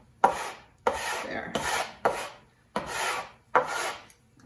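A knife or scraper rasps across a cutting board in a home kitchen during turkey curry prep, six separate strokes in a steady rhythm, close and fairly loud, with one brief spoken word.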